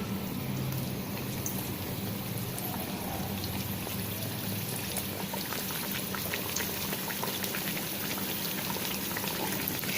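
Spiced kachori stuffed with mixed namkeen fries in hot oil over a low flame, giving a steady, dense sizzle and bubbling crackle that runs unbroken and close throughout, with no talk.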